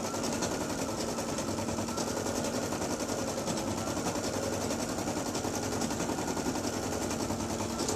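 Embroidery machine stitching a boot design for an in-the-hoop 5x7 lined zipper bag, a fast steady mechanical chatter of needle strikes running loud and unbroken throughout, with no talk.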